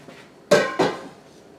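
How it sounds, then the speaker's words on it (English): A metal lid is set onto a glass canning jar of stew beef before pressure canning, giving two quick, close clinks about a quarter second apart in a quiet kitchen. "Putting the last lid on."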